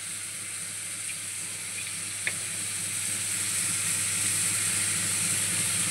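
Sliced onions, green chillies and peanuts sizzle steadily in a pan for kanda poha, a dense, even hiss with a faint tap partway through and no talking.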